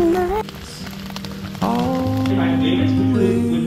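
Steady rain hissing on pavement while walking outdoors on a university campus, a continuous wash of patter under someone singing.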